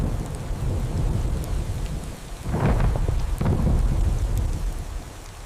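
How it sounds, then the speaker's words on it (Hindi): Monsoon rain pours steadily over a village, a dense wash of rainfall with deep rolling thunder swelling in the middle. No voices. "गांव पर बारिश बरस रही है।"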